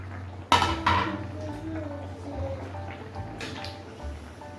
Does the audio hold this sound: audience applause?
no